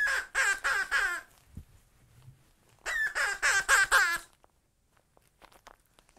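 A human voice imitates a loud parrot squawk for a rainbow parrot puppet in a classroom, two bursts of four or five rapid, raspy, clucking cries separated by a pause, close and clear against quiet surroundings.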